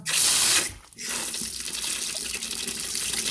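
A tap gushes loudly for about half a second, cuts off briefly, then water runs steadily again in a continuous hiss until the end.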